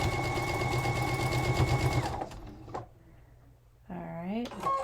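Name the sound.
sewing machine stitching a seam on thrifted jeans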